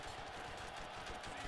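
Dense, continuous rapid-fire gunfire from the Borderlands Mad Moxxi's Underdome Riot arena roars for a moment, a steady loud wash of shots with no pauses and no voices.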